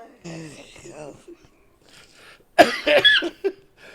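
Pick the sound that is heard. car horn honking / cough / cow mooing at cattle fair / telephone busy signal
cough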